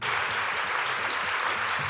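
Audience at a speaker agency talk on a campus claps steadily to welcome a speaker to the stage, a brief, full and even burst of applause heard alone.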